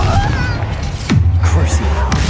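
A Confringo blasting spell detonates in Hogwarts Legacy, a single loud boom with a sweeping whoosh in the middle of steady game noise and talk.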